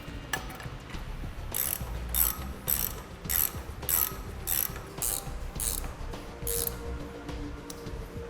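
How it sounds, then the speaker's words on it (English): A 15/16 ratchet wrench tightens a brake line fitting during a 2017 Chevrolet Silverado braking system installation, giving off a steady run of crisp, close ratcheting clicks in regular bursts for several seconds, with no talking. "For the 5/8, you're going to go to a 15/16 wrench"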